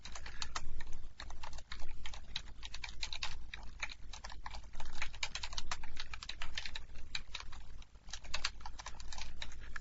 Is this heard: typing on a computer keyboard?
yes